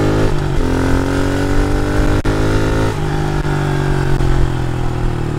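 A new dirt bike's engine revs hard in third gear, loud and close, with rising pitch sweeps and a brief dip as the throttle eases before building again; no talking.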